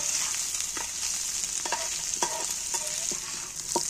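Halved boiled eggs fry in hot oil with curry leaves, a steady bright sizzle running throughout while a utensil taps and scrapes the pan in scattered clicks, close and fairly loud, with no voices.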